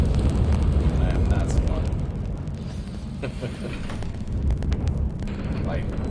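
Fiery Confringo spell blasts in the video game Hogwarts Legacy rumble and boom loudly through a dense, continuous battle din while a player talks over the action.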